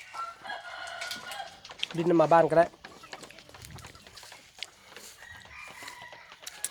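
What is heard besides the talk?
rooster crowing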